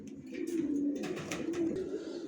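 A male racing pigeon coos close by in soft, throaty, rolling phrases, courting his mate, with a brief pause between calls.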